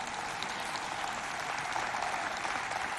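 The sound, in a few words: audience applause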